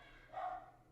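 A single short dog bark comes from downstairs, sounding faint and muffled at a distance, with a quiet indoor background and no one talking.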